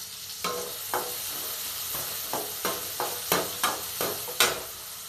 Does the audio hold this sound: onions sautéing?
yes